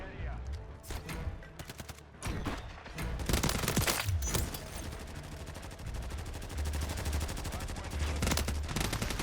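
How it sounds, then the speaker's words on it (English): Rapid bursts of SVA 545 rifle fire in Modern Warfare 3, loud and close, several volleys cracking out in quick succession with game sounds around them. "I just shot him through the smoke without even seeing him"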